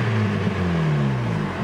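Built turbocharged Nissan Sentra engine runs with a steady low droning hum, pitch easing slightly downward as it settles, close by with no talking.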